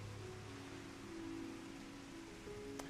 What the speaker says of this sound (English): But you are getting rained on.